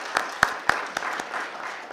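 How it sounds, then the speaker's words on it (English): A small school board meeting audience gives a brief, sparse round of clapping, a few distinct hand claps followed by a softer patter that quickly fades. "so let's give them a clap."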